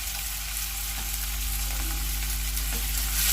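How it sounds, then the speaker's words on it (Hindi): Ginger paste, onion and garlic sizzle and fry in a pan while being stirred, a steady close crackling hiss with occasional scraping strokes of the spoon throughout. "अदरक का पेस्ट डालकर इसे अच्छी तरह से चला लेते हैं और इसे भी भून लेते हैं"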